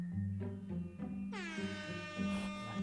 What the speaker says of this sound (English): Honk once for yes or honk multiple times for no.